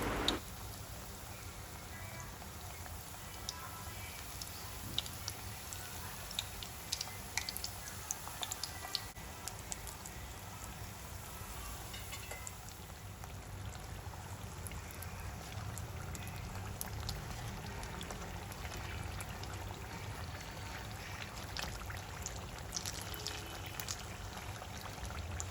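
Samosa pastries made from maida dough deep-frying in hot oil, a steady soft bubbling fizz that carries on throughout with small scattered pops.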